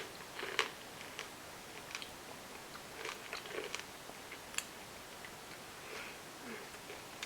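Soft, close chewing of fresh pomegranate seeds, with scattered small crunches and juicy bites over a faint hiss, intimate and quiet with no talking.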